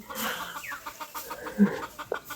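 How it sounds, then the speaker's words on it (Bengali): A chicken perched high in a tree on a village homestead clucks and squawks in short, scattered calls, moderately near and without talk. "মুরগি দেখেন গাছের আগায় উঠে চিল্লাচ্ছে।"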